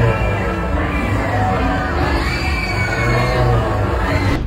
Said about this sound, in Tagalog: Kuha sa viral video na ito ang masayang hiyawan ng mga sakay ng frisbee ride